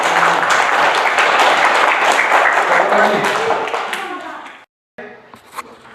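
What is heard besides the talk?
children clapping hands in a classroom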